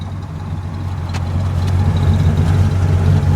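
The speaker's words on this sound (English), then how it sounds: "I don't know if you can hear the exhaust." A 1967 Pontiac GTO convertible with a 400 engine rumbles in a low, steady idle-like drone, quiet and even throughout without any revving.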